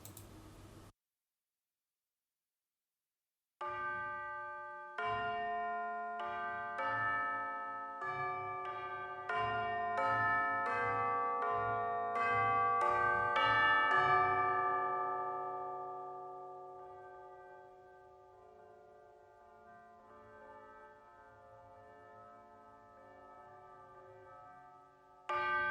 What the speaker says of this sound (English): Let's look at the tubular bells.